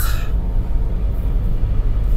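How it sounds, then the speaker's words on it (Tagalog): Large trucks approaching on a winding mountain road, a loud, low, continuous rumble up close with a brief hiss at the start, heard from inside a moving vehicle. "kasalubong, malalaking truck"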